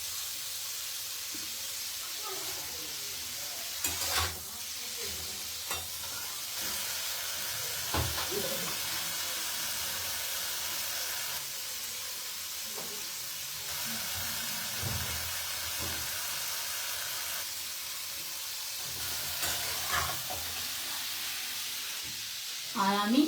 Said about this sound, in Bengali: হালকা কাশ্মীরি লঙ্কা গুঁড়ো, একটু নেড়ে ভেজে নিতে হবে।